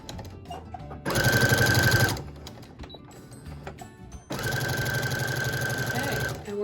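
Sewing machine quilting the outside of a large tote with a back stitch, two loud close bursts of rapid rhythmic needle chatter and motor whine separated by a quieter pause.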